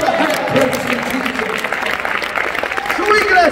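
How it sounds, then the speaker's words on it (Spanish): A Pentecostal church congregation claps and calls out during a service, steady applause running under a preacher's loud amplified voice. "Alguien de palmas a Cristo."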